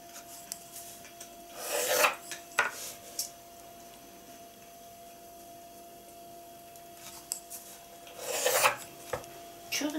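A pet animal gnawing on something indoors, producing two bursts of dry rasping scratches a few seconds apart with short clicks in between, close and fairly quiet against a faint steady hum.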